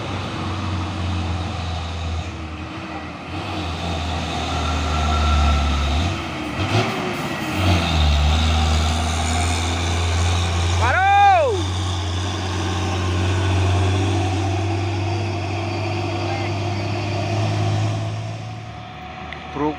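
Diesel engine of a Hino 500 6x4 trailer truck on a hill climb, a steady low rumble and drone holding throughout at close range, with a brief rising whistle-like tone partway through.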